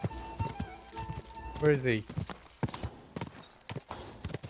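Horse hooves clip-clop on the ground in the medieval video game Kingdom Come Deliverance 2, irregular hoofbeats with a brief whinny, under someone talking over the gameplay.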